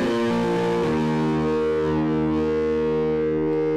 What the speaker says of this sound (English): You can even run the signal from the Screamer distortion pedal into the Twang amp, an amplifier model that produces a classic rich tube sound.